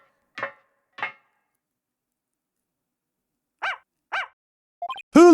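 A dog barking in a Phoenix Wright: Ace Attorney video game: two short barks, a pause, two more, then a quick yip and a longer loud howl-like bark at the end, close and clear with no talk.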